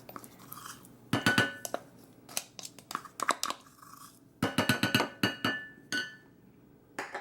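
A spoon clinks against a glass measuring cup and bowl while pumpkin puree is scooped out, giving sharp, close taps in irregular bursts with short pauses between them.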